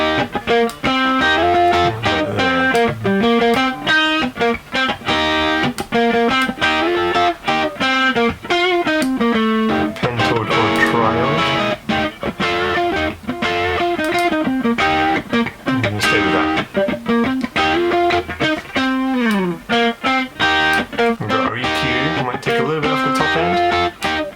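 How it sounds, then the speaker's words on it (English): An electric guitar played through a Revv D20 amp with the volume cranked for a distorted blues tone, loud and continuous chords and riffs sustaining throughout. "Get that distortion."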